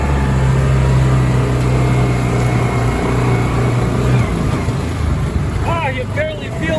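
A UTV with a roll cage drives through brush, its engine a loud steady drone up close that fades slightly near the end, with faint voices mixed in.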